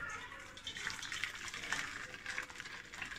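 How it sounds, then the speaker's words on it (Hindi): Boiling hot water pours into a bowl, a steady faint splashing gush that runs for a few seconds with no clear talking. "एक बाउल में गर्म पानी डाल दीजिएगा।"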